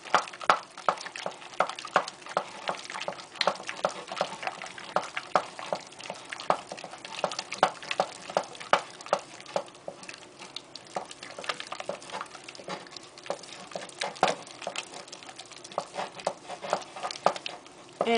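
Cream puff batter being mixed by hand in a bowl, a steady run of soft wet slaps and scraping strokes in an uneven rhythm, close and moderately quiet, with no talking.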